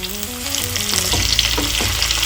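Sliced ivy gourd sizzles and crackles steadily in a hot pan, loud and close, with a few stirring scrapes and no voices.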